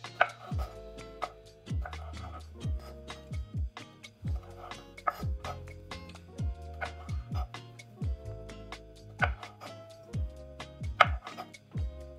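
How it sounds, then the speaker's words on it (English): Cherry tomatoes being sliced in half on a cutting board, a quick series of sharp knife chops hitting the board in irregular bursts, close and fairly quiet, with soft background music. "So I'm gonna give them a good wash and just slice them in half"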